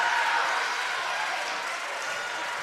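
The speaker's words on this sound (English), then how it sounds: "The crowd here for Waukee is still large," Home crowd cheering and clapping in a high school volleyball gym during a Waukee versus Waukee Northwest rivalry match, a loud, dense roar that stays steady and slowly eases over a couple of seconds, with no talk over it.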